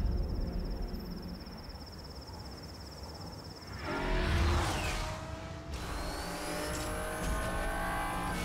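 In the Need For Speed Hot Pursuit video game, a Bentley's engine hums steadily, then surges into a loud rising rev as the car accelerates, settling into a sustained drone with whooshing road noise.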